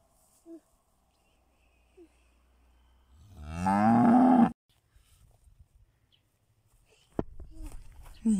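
A single cow in a countryside pasture gives one long, loud moo partway through, fairly close and alone, with faint scattered knocks and a brief voice-like sound after it.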